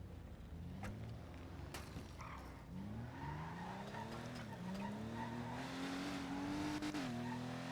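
A car in GTA V roleplay on a NoPixel server revs up through rising engine notes with tire squeals and skids, the steady motor drone staying fairly quiet and continuous throughout with no voices over it.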